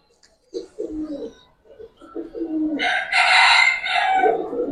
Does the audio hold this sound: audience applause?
no